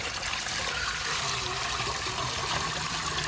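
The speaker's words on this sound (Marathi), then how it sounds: "बघा बोर चालू केलाय मी आत्ताच." Water rushes steadily from a freshly started borewell pump, drawn fresh for a festival offering: a loud, continuous hissing gush with no break and no voices.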